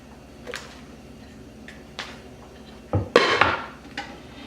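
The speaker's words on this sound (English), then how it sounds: "I'll put my lid on and I'll cook this for about 4 to 5 hours" A lid settles onto a crock pot of beef roast with carrots and potatoes, giving a cluster of close clinks and a ceramic clatter after a few faint taps.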